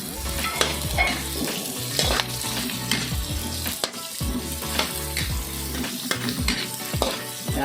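Garlic and onion sautéing in a pan for chicken tinola, with a loud crackling sizzle and frequent stirring clatter from a utensil against the pan, and a low hum running underneath.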